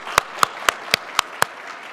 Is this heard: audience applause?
yes